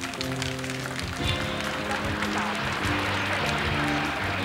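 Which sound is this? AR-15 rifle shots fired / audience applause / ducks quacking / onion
audience applause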